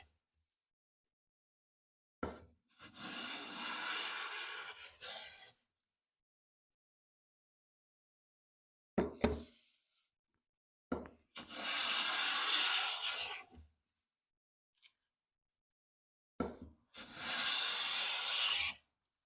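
Stanley jumbo smoothing hand plane skewed across wood, taking the finest shavings: three long, loud hissing strokes, each several seconds, with sharp clacks and short scrapes between them and silence around, no talk.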